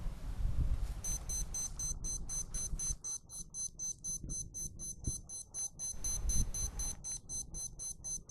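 A workout interval timer beeps in a rapid, steady series of high electronic pulses for several seconds, with breathing and low movement noise from exercising underneath.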